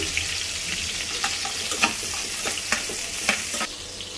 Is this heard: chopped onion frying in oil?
yes